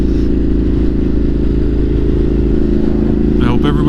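A motorcycle engine rumbles steadily and loudly up close, with a continuous low throb and a brief higher squeal near the end.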